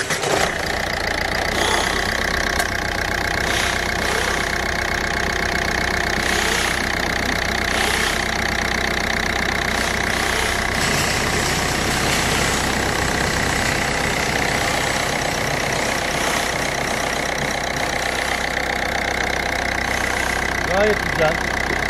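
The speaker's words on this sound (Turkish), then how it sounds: "Aracımızı çalıştıralım, sesini dinleyelim." A Ford Fiesta 1.4 petrol engine idles steadily just after starting, a loud continuous hum with a faint ticking texture that holds for the whole stretch, with no talk over it.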